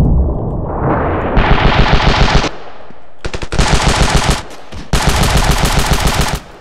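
Gunfire in the Ravenfield battle game, loud rapid automatic bursts of machine-gun fire in several strings separated by short pauses, close and echoing, with no talk.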